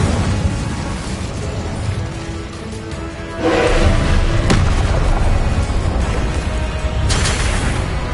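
Spell casting effects in the video game Hogwarts Legacy: dense bursts and booming magical blasts, with sharp cracks near 3.5 and 4.5 seconds and a swell near 7 seconds, continuous and loud with no speech.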